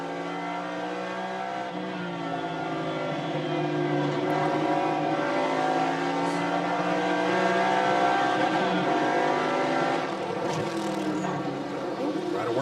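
A Boss 302 Mustang's engine is heard onboard during a road race at Laguna Seca, droning loudly and continuously as its pitch slowly rises and falls through gear changes.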